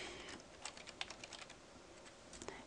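Quiet, rapid keystrokes on a computer keyboard as a file name is entered, a short burst of uneven taps against faint room hiss.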